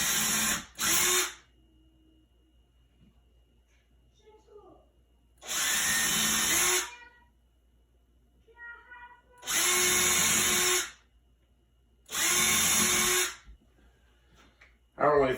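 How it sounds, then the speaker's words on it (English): A small handheld power drill drives screws into a faux window blind bracket inside a window frame, running in four short high-pitched bursts separated by quiet pauses with faint handling noises. "Go ahead and get my little drill there."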